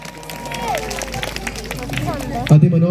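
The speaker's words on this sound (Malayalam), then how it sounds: "ഒരു ബിഗ് ക്ലാപ്പ്." Audience applause at a prize draw for a pedestal fan first prize, a burst of clapping and crowd chatter rising under a speaking voice, then a louder close sound at the end.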